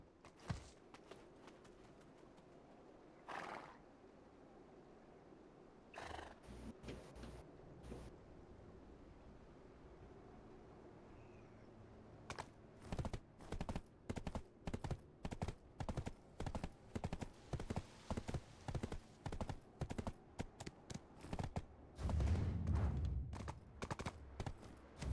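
A horse's hooves clip-clop in the video game Black Desert. The steps start sparse and then settle into a steady, regular trotting rhythm that is moderately loud and close, with a brief low rumble near the end.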